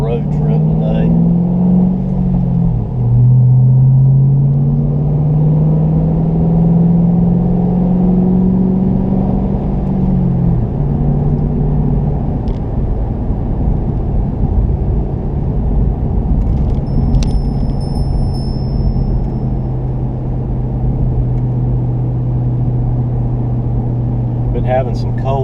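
A car drives along a road on a road trip, its steady engine rumble and tire drone continuous and close throughout, with a shift in engine tone early on and faint jingling at moments.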